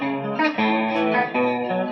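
Electric guitar played through an effects pedal with chorus and distortion, sustained chords changing every half second or so, loud and continuous with no talk.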